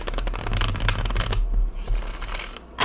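Tarot-size cards from The Seed and Sickle Oracle, a sturdy herbal oracle deck, shuffled by hand, a steady run of crisp riffling and flicking with short pauses, close and clear with no talking.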